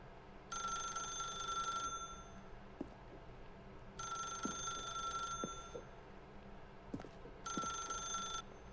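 A telephone rings in The Stanley Parable in three long bursts of bright, clear ringing, separated by pauses filled with a low ambient hum.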